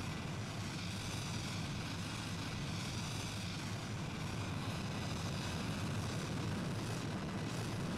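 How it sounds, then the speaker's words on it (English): Avro Arrow jet aircraft engine in a flight video game, a steady, loud, broadband roar holding constant throughout with no other sounds. "I'm just gonna take off in this Avro Arrow."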